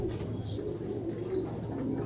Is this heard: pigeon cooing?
yes